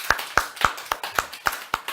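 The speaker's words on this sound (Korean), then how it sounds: "우리 서로에게 박수, 격려의 박수" A small Bible study class claps for one another in a room, with a few sharp, evenly spaced claps about a quarter second apart, close and distinct.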